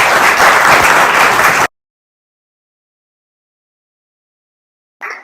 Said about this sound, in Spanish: pues un aplauso a Antonio.